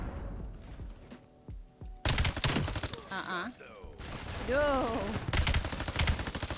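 Rapid, loud bursts of M15 Mod 0 rifle fire in a first-person shooter game, clustered in sharp automatic volleys, with players talking and other game sounds mixed in between.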